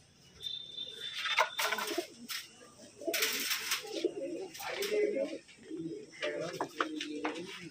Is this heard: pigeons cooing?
yes